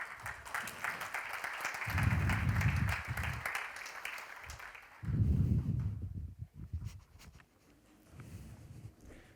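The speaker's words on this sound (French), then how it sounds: "On peut peut-être l'applaudir pour le motiver quand il va monter sur scène." An audience at an ESG finance conference applauds as a speaker heads to the stage, a faint, soft wash of clapping from across the room, broken by low rumbling bumps and muffled noise near the microphone.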